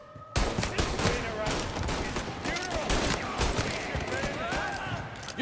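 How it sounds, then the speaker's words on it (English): Rapid, dense Tommy gun fire in a Mafia: Definitive Edition shootout, sustained loud bursts overlapping almost continuously with a few ricochet-like whines and a player talking over the action. "They got Tommy guns"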